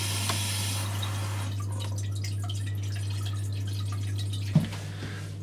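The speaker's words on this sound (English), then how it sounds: "is dripping down the internal overflow" Water drips down the internal overflow of a toilet cistern. A single sharp drip lands near the end over a steady low hum, in an otherwise quiet indoor setting.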